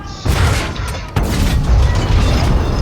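A tank cannon shell striking a tank in World of Tanks lands as two heavy booms close together, the second followed by a sustained low rumble, loud and near with no voices.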